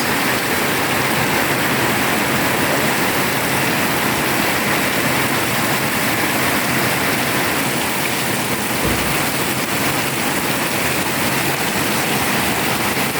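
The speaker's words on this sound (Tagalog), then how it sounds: "May ulan." A loud, unbroken downpour hisses and drums steadily, with a brief low thump partway through and no one speaking.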